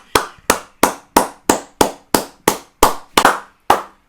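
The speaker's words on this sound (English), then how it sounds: "I've got to clap for this guy." A single person claps by hand, eleven sharp, evenly spaced claps over about four seconds, close and loud with nothing else heard.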